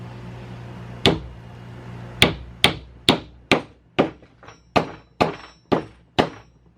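Sharp hammer blows drive draw-bore pins into a wooden breadboard end on a farmhouse table, about ten distinct close thunks: one early strike, then a steady run of evenly spaced hits, with no talk.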